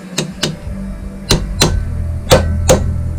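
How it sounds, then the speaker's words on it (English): Metal-on-metal hammer blows drive a part into place on a Suzuki GS250FW motorcycle under restoration, six sharp, loud, close strikes coming in pairs, with no voices. "that sound means it's metal on metal"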